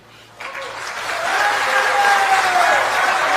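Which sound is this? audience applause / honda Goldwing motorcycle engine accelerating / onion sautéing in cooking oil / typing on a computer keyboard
audience applause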